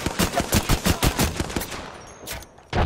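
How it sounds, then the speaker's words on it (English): Rapid bursts of enemy gunfire in a video game crackle in quick succession for over two seconds, then break off briefly before another loud burst starts. "They're shooting at you."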